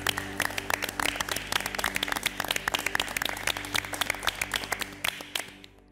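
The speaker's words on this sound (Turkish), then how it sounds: "O yüzden bizler de altınızı birden alkışlamak istiyoruz." A studio audience and judges on a MasterChef Türkiye cooking competition applaud all six contestants with brisk, dense clapping that holds steady and tapers off at the end.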